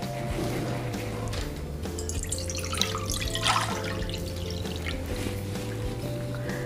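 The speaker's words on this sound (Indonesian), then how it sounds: "Di sini saya akan tambahkan air." Water poured into a cooking pan before sugar is added for candied young mango, a steady continuous splash and trickle heard close up with a faint background hum.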